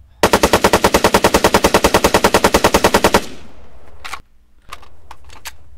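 Loud, rapid automatic fire from a CAR-95 rifle in Arma 3, a burst of roughly two dozen evenly spaced shots lasting about three seconds, followed by a few faint clicks and knocks.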